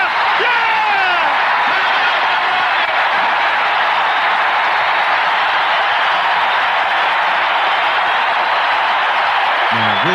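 A large basketball arena crowd roars and cheers continuously and loudly after a Michael Jordan shot in a broadcast recording, with whoops at the start and a dense, sustained wall of voices throughout.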